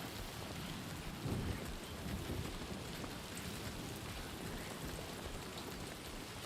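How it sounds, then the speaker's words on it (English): Steady heavy rain hisses across the whole span in the video game Death Stranding 2, with a low rumble of thunder swelling briefly near the start. "I don't like being out for extended periods of time in the rain, as it does degrade all of my equipment"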